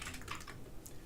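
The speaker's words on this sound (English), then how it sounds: "here's the other keyboard clack" A clacky mechanical computer keyboard being typed on at home, with quick, irregular keystrokes clattering softly and fairly close, with no voices over them.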